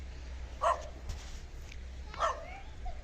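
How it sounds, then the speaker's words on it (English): A neighbor's dog barks twice at a distance, short separate barks with a pause between them, faint against steady low background rumble outdoors during a snowstorm. "That's our neighbor's dog."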